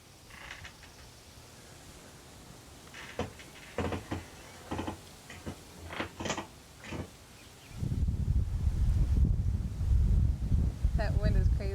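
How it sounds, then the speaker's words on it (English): Strong outdoor wind rumbles and buffets against the microphone, growing heavier and louder in the second half, while someone talks over it in the first part. "That wind is crazy."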